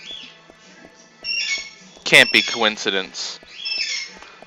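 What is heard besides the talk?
birds squawking outside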